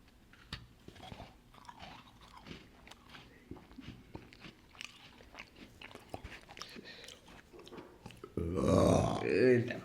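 Someone chewing a Mysore pak sweet up close, with soft crunching and mouth sounds scattered through the quiet, ending in a louder burst of noise.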